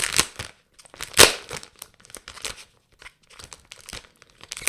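A Panini Euro 2020 Kick Off sticker pack torn open by hand, with close crinkling and a sharp tearing rip, followed by scattered softer rustles of the foil wrapper.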